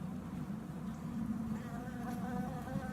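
Honeybees buzz in an opened hive, a dense, continuous hum of many insects that stays steady and fairly faint throughout, with no talking.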